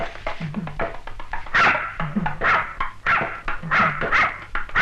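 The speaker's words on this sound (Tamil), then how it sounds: "இந்த முகமூடி இருக்கிறனால தான் நாய் குலைக்குது" A dog barks repeatedly and loudly nearby in a steady series of sharp barks, with some whimpering yips between them.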